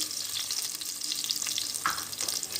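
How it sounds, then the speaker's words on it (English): Shallots in a few tablespoons of oil sizzle steadily in a pan for a Karnataka-style chicken curry, with a soft stirring scrape partway through. "Now I'm gonna add shallots, 10 to 15 shallots."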